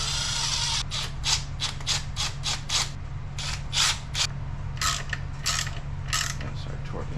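Hand-torquing screws on a 2003 Chevy Cavalier gives a string of quick ratchet clicks in short bursts, irregular and close, fairly quiet over a low steady hum.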